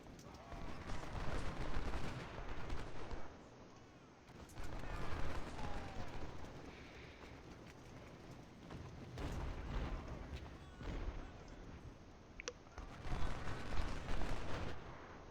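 Gunfire and artillery from the Civil War battle game Ultimate General: Civil War, dense crackling volleys and booming blasts that swell and fade in waves, fairly distant and continuous.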